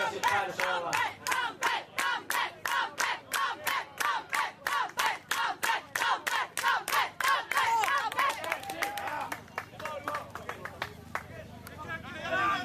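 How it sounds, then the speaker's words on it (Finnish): A rugby crowd at a Finnish championship final chants and cheers in a fast, rhythmic series of loud bursts, then breaks into a looser roar and clapping, with a commentator's voice mixed in. "Nyt yleisö kannustusta"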